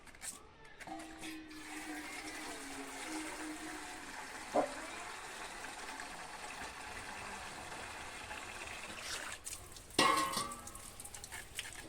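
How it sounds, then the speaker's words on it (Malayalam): Water runs steadily into a deep bowl set out for washing freshly harvested cardamom, a close, continuous rushing broken by a couple of brief clinks against the vessel. "അപ്പൊ ഇതിലേക്ക് നമുക്ക് ഇച്ചിരി വെള്ളം നിറയ്ക്കാം."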